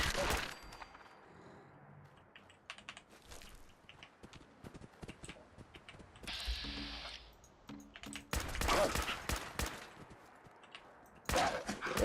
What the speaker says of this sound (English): Third person shooting is tough.